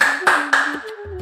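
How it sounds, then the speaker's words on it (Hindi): A few sharp hand claps done as a wrist and finger-joint exercise, three or four crisp slaps close by over a steady tone, no talking. "ताली मार लें, आप पोरों को टकरा लें"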